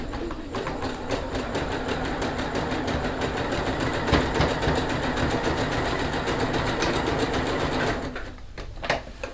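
A sewing machine runs a steady zigzag stitch on a zipper bag, a continuous close mechanical whir with rapid needle ticks that stops near the end.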